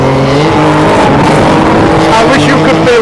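A Mercedes Gullwing racing hard in pursuit of a Lexus, its engine roaring loud and close throughout with rising and falling revs and tire noise, never letting up.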